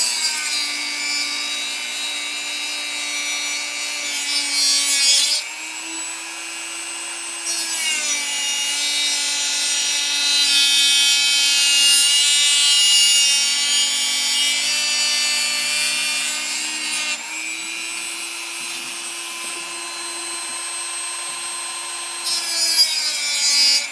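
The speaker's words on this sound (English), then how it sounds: "So I'm going to take out my Dremel here" A Dremel rotary tool cutting into a plastic airplane model kit makes a loud, sustained high-pitched whine that dips and rises in pitch as the bit bites into the plastic and eases off.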